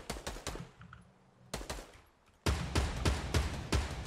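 Rapid bursts of automatic gunfire in the video game Fortnite crack in quick succession, pausing briefly between volleys, then a heavier continuous barrage with sharp repeated shots.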